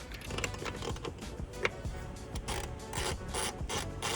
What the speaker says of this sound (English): I'm gonna go ahead and bolt these hard lines off of it